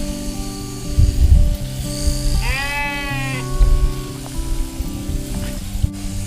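A sheep gives one clear, drawn-out bleat during shearing, set against a steady background of clipper hiss and low rumbling thumps in a busy shed.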